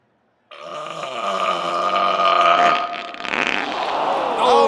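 A comedic fart sound in a mock professional burping contest: a long, loud, buzzing rasp that rises and sputters for several seconds, with no speech over it.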